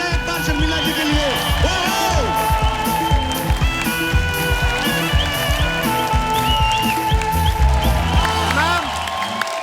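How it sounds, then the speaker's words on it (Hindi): A studio audience on a comedy show claps and cheers for Sharmila over loud music with a steady beat, the applause blending into the busy, continuous backing. "जोरदार तालियां हो जाए एक बार शर्मिला जी के लिए"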